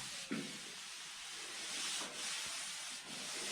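80 grit sandpaper scuffs the side panel of a Lambretta GP scooter during paint prep, producing a steady, soft abrasive rasp that runs on with only slight pauses.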